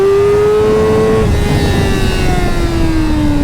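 Yamaha R6 sport motorcycle engine revs high on the road, a loud, close whine that climbs, then drops and eases down steadily over a few seconds, with no talking.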